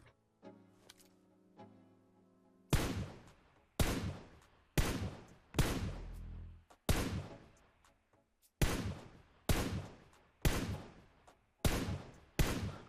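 Rapid loud gunshots in PUBG Mobile, a dozen sharp bangs in quick succession after a few soft clicks and tones at the start.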